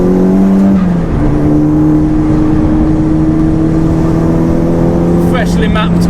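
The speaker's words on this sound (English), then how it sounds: "that K04, which is spooling up nicely straight away" Turbocharged Audi TT with a K04 turbo and freshly mapped engine on a race track, a loud sustained engine drone holding steady pitch after a brief shift, with a whirring tone and close in-car sound; a voice talks over it.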